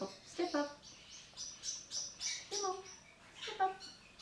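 A young male Eclectus parrot near weaning age gives a string of short, bright chirps and squeaky calls, close and fairly loud, spaced irregularly over several seconds with quiet gaps between.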